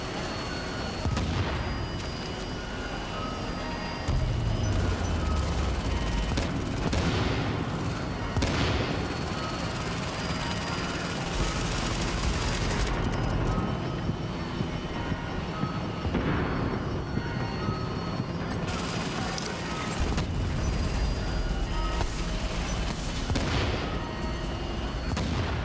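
Enemy grenades and gunfire in a video game pour out as a dense, continuous barrage of booming explosions and rattling shots. It is loud and close, with a few heavier blasts breaking through the constant roar.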